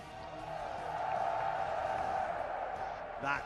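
A crowd at the EVO 2024 fighting-game grand finals cheering and roaring in a sustained swell, with an announcer's voice over it.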